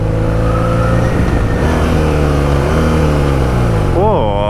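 Loud engine drone from a vehicle on Spanish roads near Bilbao, revving unevenly after a botched gear change, the pitch sagging and then sweeping back up near the end.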